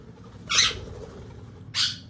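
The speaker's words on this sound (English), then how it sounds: "Crazy birds flying around." Two short, harsh squawks from a bird close by, separated by about a second, over a low steady background hum.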